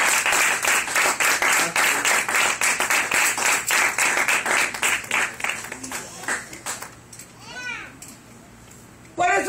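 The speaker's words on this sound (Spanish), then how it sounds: "Vamos a dar un aplauso al Señor." A church congregation applauds during a sermon, rhythmic clapping running strongly for several seconds, then fading into scattered sounds, children's voices and talk as the applause dies away.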